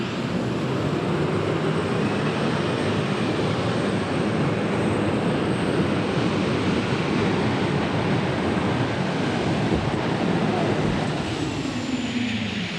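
Loud turbine-powered pulling tractor Old Blue, driven by Dave Walsh and fitted with military aircraft engines, roaring continuously at a super modified tractor pull in Farley, Iowa, a broad steady jet-like whine and rumble throughout.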